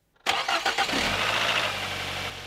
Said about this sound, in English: Now, start the engine and give it a few revs.